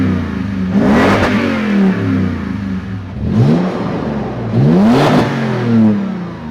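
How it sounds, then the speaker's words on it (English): A loud Toyota TRD Pro SUV engine revs up three times, each rise roaring through the exhaust before settling back to a deep idle rumble. "And now let's cut to the exhaust sounds."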